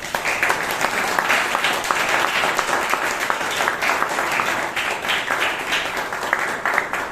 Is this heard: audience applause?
yes